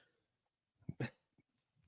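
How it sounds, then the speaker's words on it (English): A dog in a small apartment gives a couple of short, muffled, faint barks close together, followed by a softer chuff, with quiet surroundings. "what my dog is barking about in this tiny apartment"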